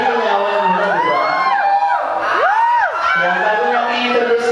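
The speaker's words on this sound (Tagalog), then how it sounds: "Wala bang hiyawan muna dyan?" Crowd at a dance crew's 20th anniversary celebration cheering and whooping loudly, with rising and falling shrieks and shouts over steady crowd noise.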